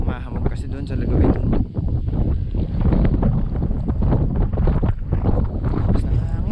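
Wind buffets the microphone at a mountain view deck in Bulacan, a loud, continuous rumbling roar with gusty swells that stays up close throughout, and voices talk beneath it.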